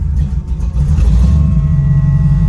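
An old custom-built car's engine rumbles loudly up close, a deep steady low growl that swells as it revs and then holds at a rough, even idle.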